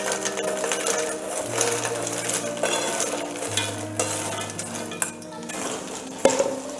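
Makhana (fox nuts) being sautéed in ghee in a pan over a medium flame, giving a continuous soft sizzle with light stirring and scraping throughout, with a steady hum beneath.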